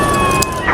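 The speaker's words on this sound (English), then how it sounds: "What sound like sirens? Are there police sirens?" A loud, steady wailing police siren tone fills the short moment, close and continuous.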